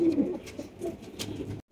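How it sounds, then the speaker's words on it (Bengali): Pigeons coo softly in short, throaty phrases, a couple of low murmuring calls close by within a quiet moment at a bird market. "বেশ কিছু কবুতর দেখতে পাচ্ছি আপনারা এখানে"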